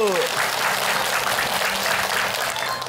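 A studio audience at an Indonesian religious talk show bursts into brisk clapping, loud and continuous for a few seconds, with a voice briefly heard at the very start.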